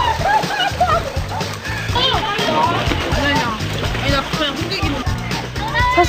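Children splash and slosh water at a summer water play area set in a check dam, with kids' voices and shouts mixed throughout and steady splashing close by.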